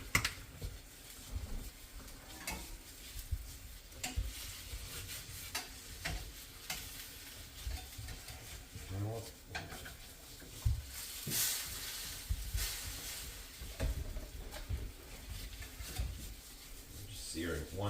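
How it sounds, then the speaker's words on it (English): Lemon pepper chicken sears in a hot pan, a quiet ongoing sizzle with scraping and stirring noises, occasional clanks of utensils and bits of talk in between. "Just searing one side."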